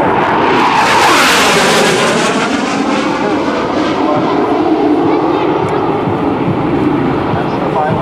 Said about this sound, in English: the pilot will decelerate from 500 knots to 0 knots, utilizing the movable thrust nozzle